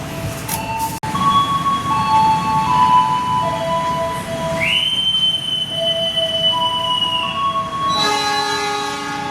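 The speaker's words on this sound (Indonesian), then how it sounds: "kereta api Tegal Bahari kembali berangkat dari stasiun Jatibarang" Tegal Bahari passenger train pulling out of Jatibarang station, with a steady loud rolling rumble, sustained whistling and squealing tones that shift in pitch, and a brief sharp knock near the start.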